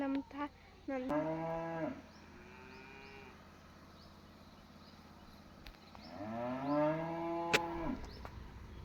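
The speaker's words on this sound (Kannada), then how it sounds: "ಹಸು ಕೂಗೋ ಸೌಂಡ್ ನೋಡಿ ಯಾವ ಥರ ಇದೆ ಅಂತ" A cow gives long, deep moos, one early and another near the end, close by and loud over a steady low background hum, in a green village.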